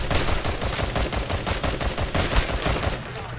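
Rapid bursts of gunfire in a first-person shooter video game, dense and continuous with sharp repeated cracks, loud and close throughout.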